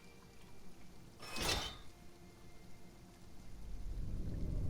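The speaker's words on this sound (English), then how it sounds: "now that it's raining, it's going to start filling up" Rain falling during a storm in the survival game Sheltered, a soft continuous patter with a short sharp crackling burst early on and a low rumble swelling toward the end.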